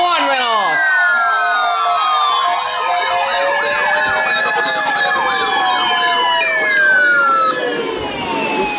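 Many sirens sound together during a tornado drill, overlapping wails rising and falling in pitch at once, loud and continuous throughout with no talk.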